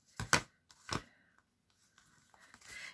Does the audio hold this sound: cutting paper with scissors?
yes